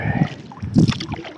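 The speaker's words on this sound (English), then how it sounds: "Let's get serious about paddling now." Canoe paddling on a lake in the Boundary Waters during a solo August trip: brief soft water swishes and gurgles from paddle strokes, close and moderately loud, with no talking.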